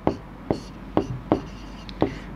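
Pen strokes on paper while writing out coordinates by hand, five short scratchy marks at a fairly even rhythm, close and distinct against a quiet background.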